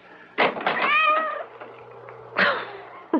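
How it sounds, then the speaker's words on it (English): A cat meows insistently at a front door at night, as a radio drama sound effect: a long drawn-out wail followed by a second shorter meow, close and clear in a quiet room. "That cursed cat."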